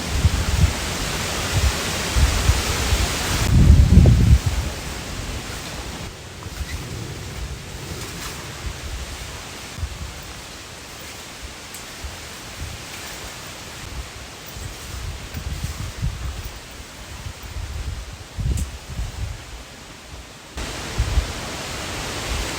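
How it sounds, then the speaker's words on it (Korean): Strong gusting wind buffets an outdoor campsite, a broad roaring rush that swells and eases throughout with occasional heavier blasts, steady and fairly loud with no voices. "바람이 왜 이렇게 심하지?"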